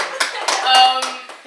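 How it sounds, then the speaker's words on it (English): A few scattered claps ring out in quick succession during a discussion show, close and sparse, with a voice talking over them. "give her a round of applause"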